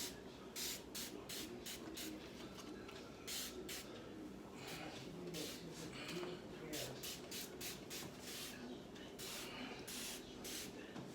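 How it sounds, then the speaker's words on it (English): Distilled water misted from a spray bottle onto hair, heard as a rapid series of short, crisp hissing bursts, close and fairly loud, repeating unevenly over a soft background. "I'm gonna just spray my hair down to get it wet."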